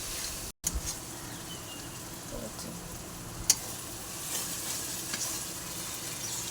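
Ingredients for Bengali egg curry sautéing in a pan give a steady, even frying hiss with a brief dropout near the start and an occasional sharp click. No voices are heard.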